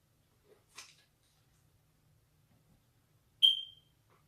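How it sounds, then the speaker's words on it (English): In an otherwise quiet kitchen, a single short, high electronic alarm beep sounds once, clear and moderately loud, after a faint earlier click. "That darn alarm is going to drive me crazy."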